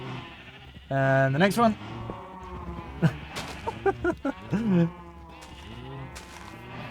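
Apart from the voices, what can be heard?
sheep bleating in a Minecraft-style video game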